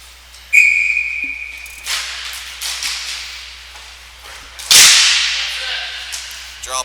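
A referee's whistle blows sharply at an amateur hockey game, one shrill blast followed by rink noise, skate scrapes and a loud swish of ice spray.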